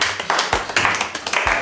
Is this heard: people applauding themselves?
yes